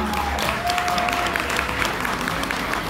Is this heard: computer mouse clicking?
no